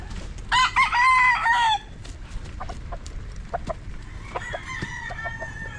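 Chickens clucking with a rooster crowing on a farm: one loud, near crow up front, followed by scattered clucks and softer calls, with a fainter crow toward the end.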